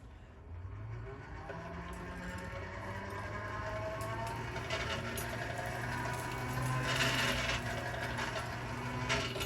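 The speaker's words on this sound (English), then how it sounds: "and also, of course, the test for the blower." A coal forge air blower, a budget model from Amazon, runs with a steady low drone and a rough mechanical rattle close by, its loudness swelling slightly toward the end with no clear talk over it.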